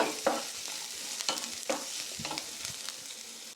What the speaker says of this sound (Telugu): ఆనియన్స్ చక్కగా వేగిపోవాలి.